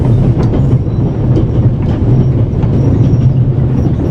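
Train rolling on the rails, a steady loud rumble with faint rhythmic clatter from the wheels throughout, heard up close with no talking.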